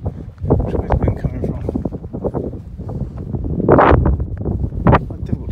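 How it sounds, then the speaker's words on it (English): Wind blows at a disused tin mine on Dartmoor, a loud rushing buffet against the microphone that swells and gusts throughout, with no voice heard. "It's quite windy"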